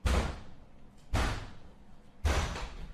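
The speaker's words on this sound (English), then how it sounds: "Then there are some really loud bangs at the door." Three loud, heavy bangs on a door at roughly one-second intervals, each a deep booming thud that rings out briefly before the next, close and with no voices.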